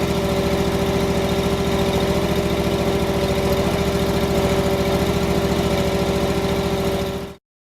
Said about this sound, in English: we'll demonstrate the hydraulic angling feature of the finished squeegee